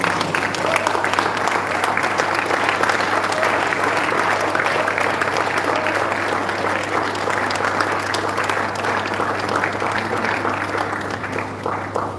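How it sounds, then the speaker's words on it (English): A standing congregation applauds, sustained dense clapping from a large crowd with a low steady hum underneath, faint voices mixed in, tapering slightly near the end. "stand up and clap for them"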